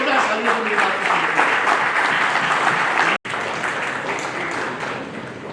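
Loud, dense applause fills a meeting hall as the audience claps hard and continuously, broken by one brief cut, with some murmuring voices mixed into the clapping.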